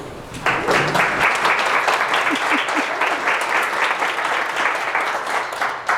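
Enthusiastic audience applause at the close of a monthly meeting lecture on dark skies, rising abruptly into a full, steady round of clapping that continues for several seconds, close and loud.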